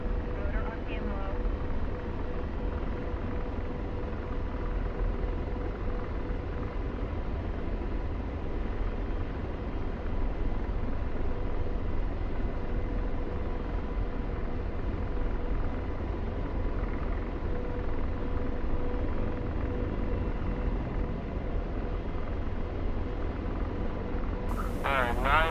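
A DCS World helicopter's rotor and engine drone continuously in flight, a dense, even rumble that holds steady from start to finish beneath intermittent radio-style talk.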